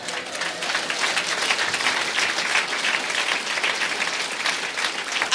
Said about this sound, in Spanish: Fuerte aplauso a Cristo.